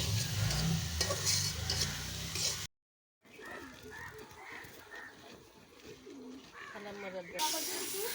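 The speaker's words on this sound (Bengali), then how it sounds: "আমরা কষিয়ে নিচ্ছি সব কিছু একসাথে মিক্স করে" Cumin paste and turmeric being sautéed and stirred together in a pan, a steady sizzle with stirring scrapes, briefly cut to silence midway, with pigeon-like cooing and a voice in the background.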